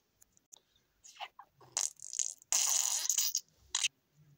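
Several short, wet, sputtering fart noises from an animated comedy, coming in scattered bursts with one longer, louder rasping blast near the end, close and clear with no talk over them.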